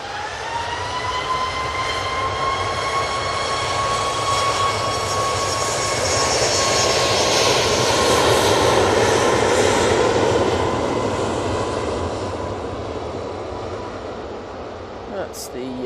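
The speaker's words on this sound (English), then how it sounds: "That's the Ryanair 737 MAX 8 off to Warsaw." A Ryanair Boeing 737 MAX 8 takes off from Manchester Airport for Warsaw, a loud jet roar with a falling engine whine that builds to a peak midway and then slowly fades.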